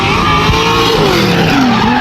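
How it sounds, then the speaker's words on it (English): A drift car at a Gridlife Midwest drifting event slides through a corner on the handbrake in third gear, its tires skidding with a loud, continuous squeal over engine roar for the whole stretch, with no voices. "coming in top and fourth on the first corner and just swinging in, ripping handbrake, putting it into third, and then just letting it eat the rest of the way"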